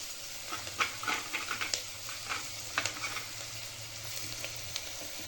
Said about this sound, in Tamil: கீரை போட்டு நல்லா வதங்கட்டும்.